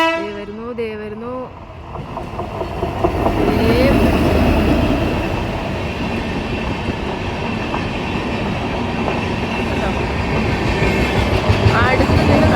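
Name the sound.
train passing by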